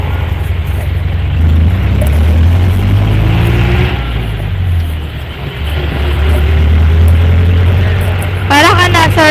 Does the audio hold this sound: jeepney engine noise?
yes